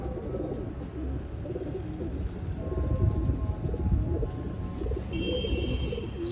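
Champion bloodline pigeons kept in a loft coo in low, soft, rolling murmurs that overlap continuously, with a busy bird chorus and a hiss like light rain behind them.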